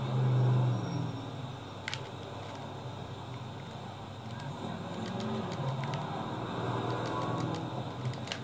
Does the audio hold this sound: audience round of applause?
no